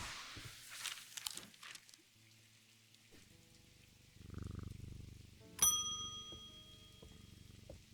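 A bell rings once in a video game, a sharp metallic strike at mid-clip whose bright overtones ring out over quiet ambient game music and soft background sounds.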